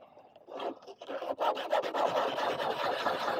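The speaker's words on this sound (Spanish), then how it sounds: "otra cosa que me he traído es la lija esta típica de los parches, y vamos a raspar un poquito" Sandpaper scraping back and forth on a hard 3D-printed plastic surface, a close, steady rasping that builds after a brief pause and continues without letup.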